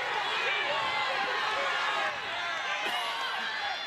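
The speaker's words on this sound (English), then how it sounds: "Hear the crowd yelling for him." A large crowd at a high school state wrestling tournament match roars and yells continuously, a dense wash of cheering that dips briefly partway through.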